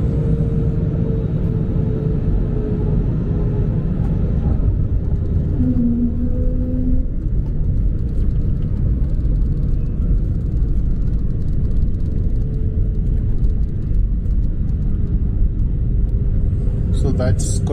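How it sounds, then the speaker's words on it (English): A passenger airplane lands at Cochin International Airport in Kerala, heard from inside the cabin as a steady, loud low rumble that runs throughout, with faint voices underneath. "We have reached Kochi and the flight is about to land"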